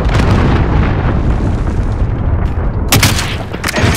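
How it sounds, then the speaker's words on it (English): Loud, continuous rumbling explosion from a cruise missile strike in the video game Call of Duty Modern Warfare multiplayer, with a fresh burst of sharp blasts near the end. "Enemy cruise missile incoming!"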